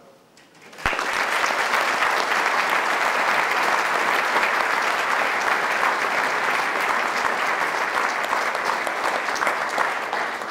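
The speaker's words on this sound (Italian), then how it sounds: "vorrei anch'io permettermi di chiedere alla sala di farti un ulteriore applauso per essere venuto qui oggi" A lecture hall audience at a lectio magistralis in Padova breaks into loud, sustained applause after a quiet moment, dense clapping continuing steadily for about ten seconds without talk.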